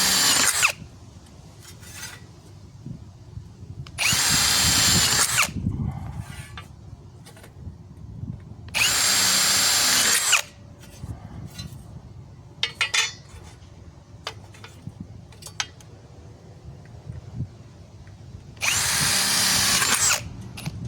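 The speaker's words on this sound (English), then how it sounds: "we're going to drill this" A power drill whirs in four short bursts while drilling a wire lock channel for attaching greenhouse poly, separated by quiet stretches with small clicks and handling noises.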